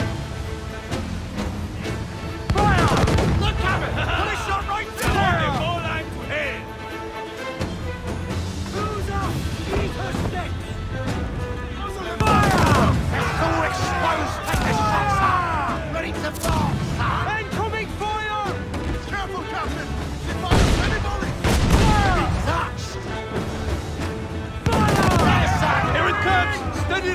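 Heavy ship cannon volleys in the pirate naval combat of Assassin's Creed IV: Black Flag, booming in clustered bursts every few seconds amid crashing impacts and battle noise, with shouting crew voices throughout.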